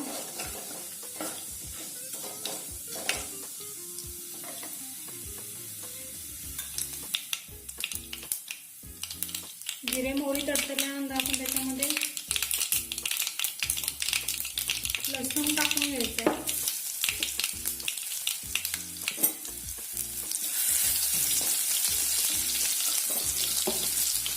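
Ghevda bean vegetable frying in a pan while being stirred, with a continuous sizzle, frequent scraping and clacking of the spoon, and a few short squeaky scrapes against the pan.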